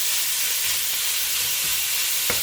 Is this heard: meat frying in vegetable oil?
yes